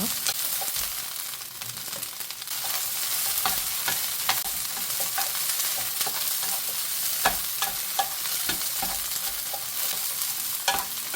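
Close, lively sizzling in a pan as peppers are stir-fried, with frequent scraping and tossing clatters over a constant hiss; no talking.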